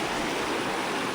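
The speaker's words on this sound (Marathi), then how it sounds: "हो हे पहिला वॉटरफॉल आज झाल्या दुसऱ्या वॉटरफॉल." A waterfall reached on an off-road ride, heard as a brief, dense, continuous rush of falling water, loud and close, with no voices.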